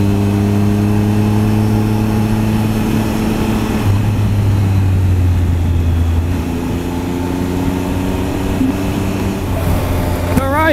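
A 2017 Triumph Tiger Explorer motorcycle descending a mountain road, its engine droning steadily with shifting tones as speed changes, loud and close with wind rush, some rider talk mixed in.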